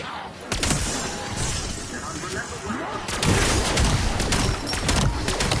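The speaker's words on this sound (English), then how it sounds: "Pretty sure the fireworks screwed that up." Fireworks bursting in Black Ops Zombies (Astra Malorum map), a run of sharp crackling pops and bangs in two dense volleys over busy game noise, with a voice talking over parts of it.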